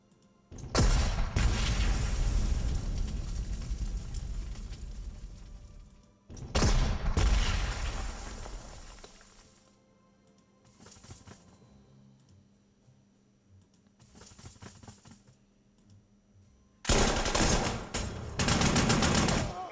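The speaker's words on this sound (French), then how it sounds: "Allez, l'artillerie." Artillery fire in the strategy video game Panzer Corps: two long loud blasts of shelling with decaying rumble, then quieter sporadic bursts and a final heavy barrage.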